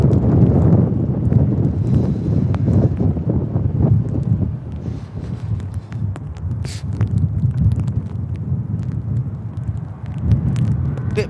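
Strong wind gusting across Manchester Airport during Storm Claudia, a steady roar with buffeting microphone rumble throughout, continuous and loud, with faint background activity.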